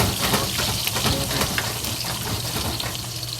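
Stuffed tofu filled with ground beef fries in a pan, giving a steady, close crackling sizzle with small watery spits and no talking.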